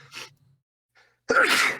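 A single sharp, loud sneeze bursts out close by after a brief inhaled gasp, during a gaming podcast conversation.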